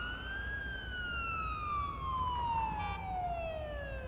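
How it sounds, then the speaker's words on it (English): A single ambulance siren in a paramedic simulator video game wails, its tone sliding slowly downward in pitch, steady and moderately loud with no talking. "Yes, I've got my sirens on."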